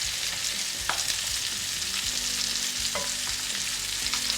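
Salmon frying in a pan for salmon butter masala, a quiet steady sizzle with occasional light scrapes, close by and uninterrupted by talk.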